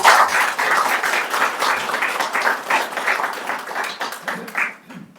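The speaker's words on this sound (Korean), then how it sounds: "두 청년을 위해서 큰 박수" Audience applause at a commemorative committee launch ceremony, a dense sustained wash of clapping that holds steady for several seconds, then thins and fades toward the end.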